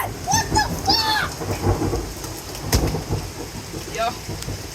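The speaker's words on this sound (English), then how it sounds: "that's the loudest thunder I have" Loud thunder cracks and rumbles through a severe lightning storm with rain falling steadily; startled voices cry out briefly amid the booming.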